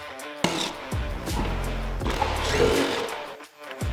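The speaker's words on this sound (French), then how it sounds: "je vais retirer les 13 boulons du Vario" Power tool removing the variator cover bolts on a Can-Am BRP quad, short whirring bursts from an impact driver or drill, close and fairly loud, separated by brief gaps of clinking.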